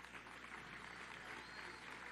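A crowd of people applauds at a televised Venezuelan government event honoring regional defense commanders, steady dense clapping sustained throughout, faint and distant-sounding in a large gathering.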